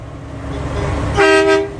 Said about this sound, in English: Hey, give us a honk.